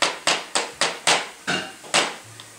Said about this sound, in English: Yeah, hammer that nail.